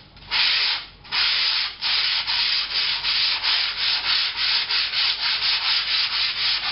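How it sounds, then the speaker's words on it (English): Steady back-and-forth light hand sanding strokes on a foam wing panel, rhythmic, a soft abrasive rub repeating about once or twice per second, close up with no voices. "The sanding has to be very light."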